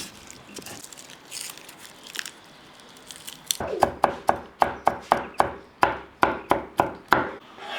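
Garlic being chopped with a knife on a cutting board, a run of about a dozen crisp, evenly spaced close chops with no talking over them.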